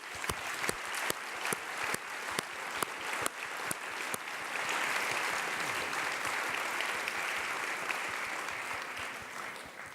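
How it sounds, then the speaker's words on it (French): Scattered distinct claps at a conference closing grow into a full, sustained round of audience applause for the speakers, heard at moderate distance in a large room. "vous demander d'applaudir comme il le mérite l'ensemble de nos intervenants"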